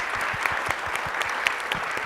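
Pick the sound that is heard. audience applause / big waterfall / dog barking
audience applause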